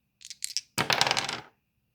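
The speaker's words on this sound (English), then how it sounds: "I'm going to keep on rolling the dice until I get to at least 50 pages." Dice are shaken and rolled onto a hard surface: a few short rattles, then a dense clattering tumble lasting about three-quarters of a second, loud and close, with no voices.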